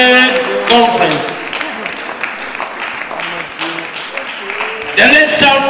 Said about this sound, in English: A round of applause for him for the opening remark and the formal opening of this great conference.